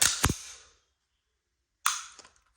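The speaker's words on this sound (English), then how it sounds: "Let's hear this trigger. Nice and crisp, cock it. Nice reset. Oh, crispy reset." A Sig P365 pistol, a small handgun, being dry-fired and reset: two sharp metallic clicks close up, each a quick double snap, about two seconds apart in otherwise quiet surroundings.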